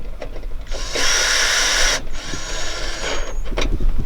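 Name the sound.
tightening bolts on Ford Ranger window regulator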